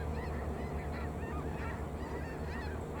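A big flock of snow geese in an Alberta field honks constantly, a dense, overlapping chorus of calls from many birds near and far, with no talk.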